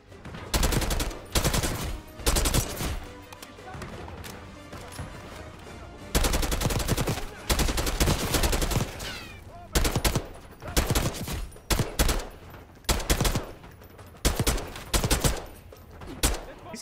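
Rapid automatic gunfire in the Call of Duty: Black Ops 6 video game, loud bursts of shots in repeated volleys with short pauses between them, fighting in a dictator's palace.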